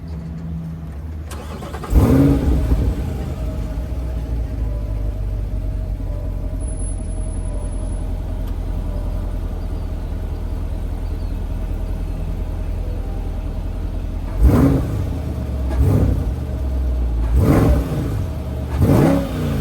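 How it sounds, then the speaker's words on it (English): A Chevrolet C8 Corvette with stock exhaust cranks and fires up with a sharp roar, settles into a deep idle rumble, then revs loudly in several bursts near the end. "with the stock exhaust, the sound in this car, let me start it up"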